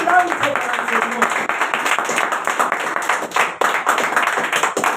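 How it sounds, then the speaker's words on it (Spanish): A church congregation claps during a sermon, a loud scattered ovation with distinct individual hand claps and some voices mixed in. "Démosle ese aplauso grande al Señor."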